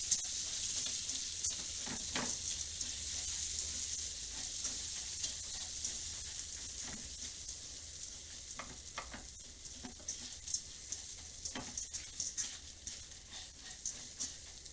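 Rice and orzo toasting in butter in a pan, a soft, steady sizzle with scattered light crackles and the faint scrape of stirring, fairly quiet and free of speech.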